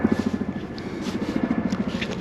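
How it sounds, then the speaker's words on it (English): A big army Chinook helicopter passes overhead near a small wooded river in winter, its heavy rotor thudding in a steady rapid pulse, loud and close, with no talk over it. "Big Chinook helicopter going over,"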